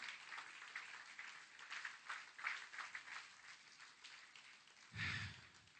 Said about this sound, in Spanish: Den un aplauso fuerte a Jesucristo hoy.